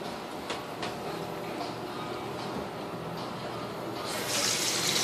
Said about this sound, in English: Add a little bit of water to it.